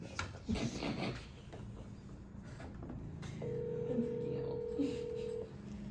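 A telephone dialed for a call during a committee meeting: a few brief button tones, then a steady tone lasting about two seconds, heard under background talk and room noise.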